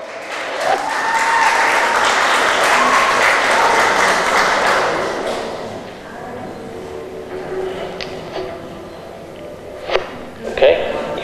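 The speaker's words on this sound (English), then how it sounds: "Let's give our contestants another big round of applause." Audience at a county fair teen pageant applauding the contestants, a dense sustained round of clapping that fades after about six seconds, followed by a few scattered claps and some speech.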